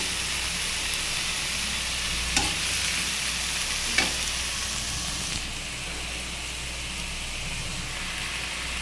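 Red amaranth greens fry in oil with chilies, a steady close sizzle under occasional soft stirring scrapes, with no talking.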